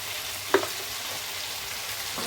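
Spice paste for a fish curry with yam fries in a pan, a steady bright sizzle running throughout, with one sharp clack of a spoon early on.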